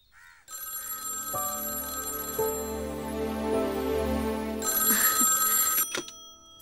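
An old-style telephone bell rings loudly and continuously in a home, a sustained metallic trill that cuts off abruptly near the end.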